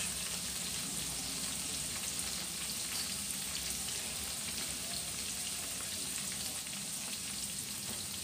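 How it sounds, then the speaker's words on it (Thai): Sun-dried beef deep fries in hot oil with a dense, steady sizzle and crackle, close and even throughout, with no talk. "เนื้อแดดเดียวของแม่น้องวุ้นนะคะ"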